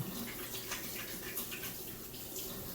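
Tap water runs steadily into a sink while hands are washed, a soft continuous splashing hiss with faint irregular spatters, fairly quiet and close.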